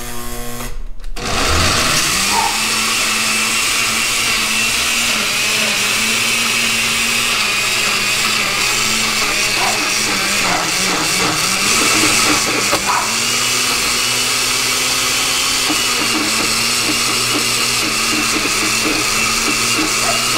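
An improvised blender runs loudly and continuously at close range, a steady whirring motor drone with a brief pause at the start and slight pitch shifts as it churns.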